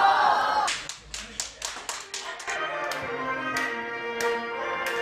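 A wedding audience claps after a performer in Chinese opera costume is introduced, a run of scattered separate claps building into fuller, steady applause.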